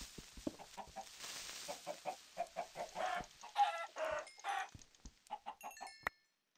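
Chickens cluck repeatedly in the Minecraft video game, a steady series of short, close, fairly loud clucks with brief gaps, heard alone without talk before cutting off abruptly.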